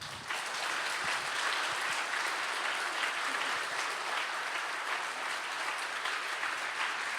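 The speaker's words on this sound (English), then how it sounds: "Can we please clap like we mean it?" An audience claps loudly and continuously, a dense steady wash of applause with no talking.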